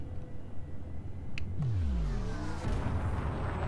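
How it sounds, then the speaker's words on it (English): Throaty engine growl of the Asp spaceship in Elite: Dangerous, a steady rumble that swells into a rising, revving sweep partway through and stays loud and close to the end. "the throaty growl of its engines"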